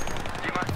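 Machine gun fire in Battlefield 3, a rapid, fast-repeating burst of shots lasting under a second, a friendly fire incident against a teammate.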